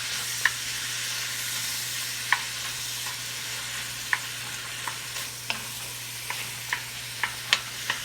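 Garlic sizzles in a beef pot for a smothered beef dish, with a steady broadband frying hiss and sharp spoon scrapes and taps against the pot at irregular intervals, close and fairly loud with no talking.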